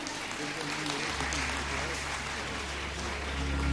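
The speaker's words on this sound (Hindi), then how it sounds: "एक बार जोरदार तालियां।" Steady applause from a crowd at a religious discourse fills the clip, a dense continuous clatter with a low hum underneath.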